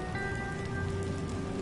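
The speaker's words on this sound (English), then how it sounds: "It's raining." Steady rain falls in the video game Batman: The Enemy Within, a close, even hiss of drops spattering on surfaces beneath a faint sustained tone, brief and unbroken with no talking.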